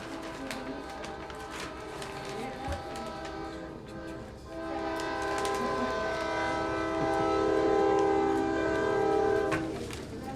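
A passing train rumbles steadily with faint rail clatter during a city council meeting in Lowell, then a sustained, tonal horn sounds for several seconds at moderate distance, swelling and fading back into the rumble.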